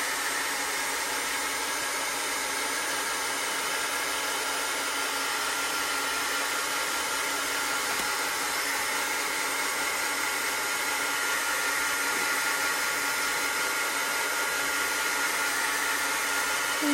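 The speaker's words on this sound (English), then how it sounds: "And then I'm going to take my heat gun. I want to dry this flower really good." A heat gun blows steadily and loudly nearby while drying a chalk paste flower, giving a constant, even hot-air roar for the whole stretch without talk.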